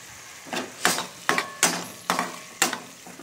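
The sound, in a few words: pea and vegetable curry boiling in a pot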